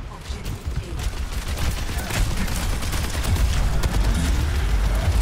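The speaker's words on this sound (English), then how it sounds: "Who is shooting me where?" In Overwatch 2, sustained gunfire and explosions form a loud, continuous barrage of overlapping shots and booms, with voices talking in the mix.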